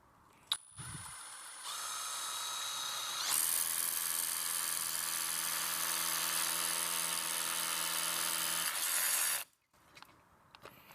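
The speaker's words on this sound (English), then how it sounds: "So now time to widen this out with a bigger drill bit." A 12V SDS drill boring a wider hole through blockwork: a sustained buzzing grind runs for about six seconds after a brief start, then cuts off abruptly, recorded close.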